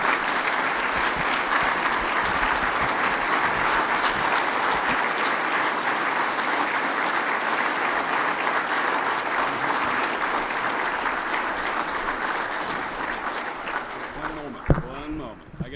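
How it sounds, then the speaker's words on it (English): Sustained, full applause from a large audience at a Hall of Fame induction ceremony, steady and loud for about fifteen seconds before tapering off abruptly, with brief talk at the end. "Ladies and gentlemen, a round of applause for Colonel Retired Dr. Hal Kushner."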